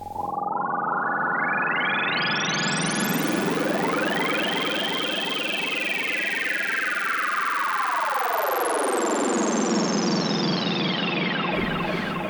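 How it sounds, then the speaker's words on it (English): A self-oscillating synth filter in Ableton Live whistles in a continuous tone that sweeps upward to a piercing high pitch, holds, then glides back down, steady and loud throughout. "That sound is essentially the filter self-oscillating."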